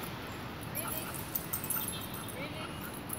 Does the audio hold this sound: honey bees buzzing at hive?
no